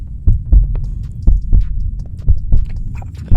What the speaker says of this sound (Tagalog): tibok ng puso niya, lakas